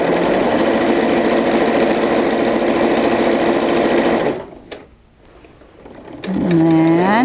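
A sewing machine stitches fabric in a loud, continuous close-up whir for several seconds, stops briefly with a little handling noise, then starts up again.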